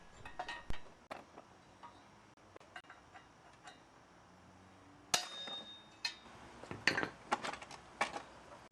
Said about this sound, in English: This calls for a bigger hammer.